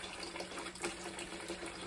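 Limed eggs rinsed under running tap water give a steady, close rush of water with small splashy variations, continuous over the short stretch.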